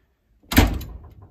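The original wooden door of an old Japanese kominka farmhouse slides shut with a single close, heavy thud and a rattling scrape that quickly fades into the quiet room.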